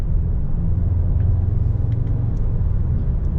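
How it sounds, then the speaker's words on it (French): Engine and exhaust of a 2021 Audi S3 sedan heard from inside the cabin, a steady low rumbling drone at a constant level with muffled road noise and no talking. "le bruit du moteur et du pot d'échappement que l'on peut entendre à l'intérieur"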